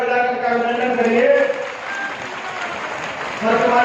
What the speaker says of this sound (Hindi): लोकप्रिय सांसद माननीय ब्रजभूषण शरण सिंह जी, जोरदार तालियां बजाकर का अभिनंदन करिए